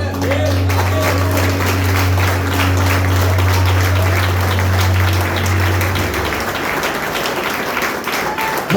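Church congregation applauding in a dense, sustained wash of clapping, with a steady low hum beneath for most of it and a voice speaking over the applause.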